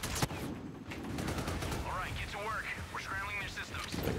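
Rapid gunfire in the video game Call of Duty: Infinite Warfare, with sharp repeated shots and bursts mixed with warbling sci-fi weapon effects, at moderate loudness.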